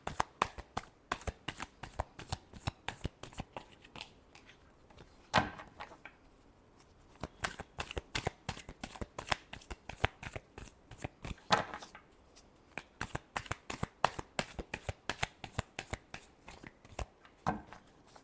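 Tarot cards being shuffled by hand make a long series of crisp, close riffling slaps and flicks in quick irregular bursts with brief pauses, quiet overall and free of speech.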